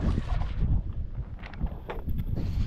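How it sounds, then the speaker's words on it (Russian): Gusty wind buffets the microphone with low rumbling bursts, uneven and close, with no talking, outdoors while sturgeon cages are being lifted. "Правда, ветрено у нас сегодня, но ничего."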